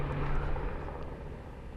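A search helicopter flying over Mount Hood in Oregon during a hunt for missing climbers produces a steady, distant rotor and engine drone that holds at a low, even level throughout.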